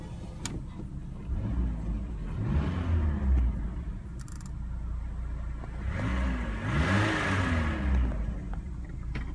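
A 1996 Buick Century's engine runs steadily at a quiet, moderate distance, with a low hum and two gentle rises in pitch like light revs, and no one speaking.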